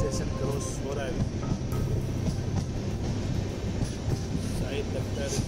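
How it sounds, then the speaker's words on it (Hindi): Train journey from Jaipur to Bhopal, riding in a general coach while passing through a railway station: a steady, loud rolling rumble of the carriage with rattles, and someone talking over it. "रेलवे स्टेशन क्रॉस हो रहा है,"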